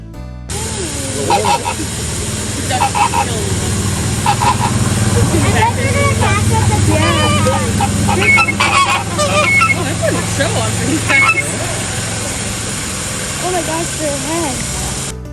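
Birds at the Pittsburgh Zoo calling nearby with loud honking, goose-like cries repeated in irregular bursts over a steady background rumble.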